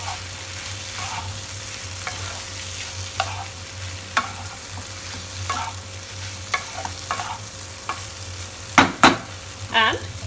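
Soya fry being stirred in a pan after butter and lemon juice go in, with a steady low sizzle beneath scattered scraping spoon strokes and a few sharper clanks near the end, close and moderately loud, no talking.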